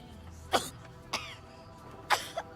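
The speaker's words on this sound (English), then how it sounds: "her poor little cough made me worry so much about her" A character in the Baldur's Gate video game coughs in three or four short, sharp bursts, spaced apart over quiet game background ambience.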